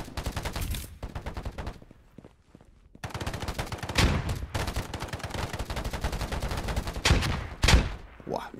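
Rifle gunfire in the online shooter Polygon: rapid, loud bursts of close automatic shots in repeated volleys with short pauses between them, some single sharp cracks standing out.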